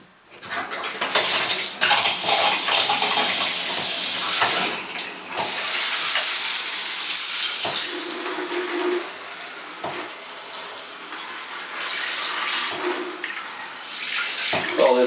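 Dishes being washed in a bathtub under running tap water, a continuous splashing rush with occasional clinks and knocks of dishware, close and fairly loud.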